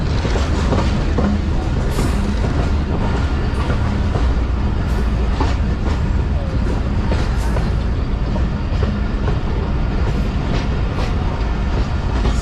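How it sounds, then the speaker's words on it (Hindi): Passenger train on the Mohenjo-Daro line pulling into Amri railway station, a steady dense rumble of carriages and rail clatter throughout, close and continuous with no clear talk. "आमरी रेलवे स्टेशन पे ट्रेन हमारी पहुंच चुकी है। 2:25 हुए हैं और यहाँ पे ट्रेन स्टॉप करेगी।"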